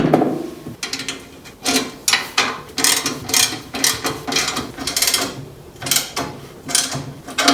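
A motorcycle steering axle is tightened with a ratcheting tool, giving loud, close, rhythmic clicking bursts that repeat steadily about twice a second without talk.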